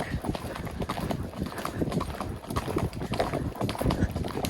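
Hooves of a buckskin gaited gelding cantering on an outdoor trail, a continuous quick drumming of footfalls with wind noise over the microphone.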